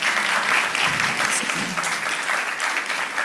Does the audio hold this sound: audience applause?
yes